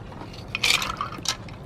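Water poured into vinegar holding seashells, giving a brief close splashing and gurgling burst, with a second smaller splash just after.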